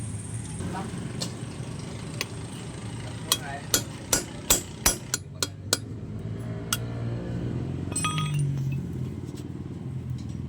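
Sharp metal hammer strikes ring out against a rusted exhaust nut on a Yamaha R3 motorcycle, about nine hard blows spaced through the middle, with workshop background noise and low murmuring before and after.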